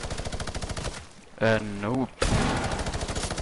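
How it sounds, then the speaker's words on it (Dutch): Rapid automatic gunfire from a video game shooter, loud and continuous, bursting before and after a short spoken word, then resuming in a dense rattling stream. "Ik ga gewoon in het rond schieten"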